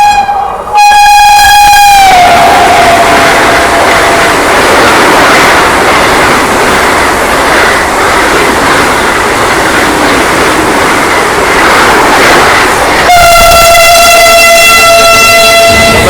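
Rani Kamlapati Vande Bharat express train overtaking, opening and closing with loud sustained horn blasts over a steady roar of rushing wheels and wind, close by and continuous for the full length.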